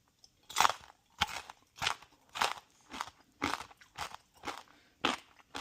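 Crunchy fried pork skin is bitten and chewed close up, about nine sharp crackling crunches at an even pace with quiet pauses between them.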